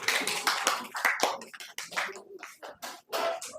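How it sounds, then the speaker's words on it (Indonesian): Students in a classroom give a short round of applause. The clapping comes in irregular bursts of hand claps, fairly close and moderately loud, and tapers off over a few seconds. "Tepuk tangan dulu."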